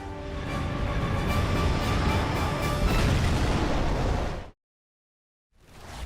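Explosion in a PlayStation 3 video game: a loud, sustained roaring blast with deep rumble holds for several seconds, cuts to silence, then another sound fades back in.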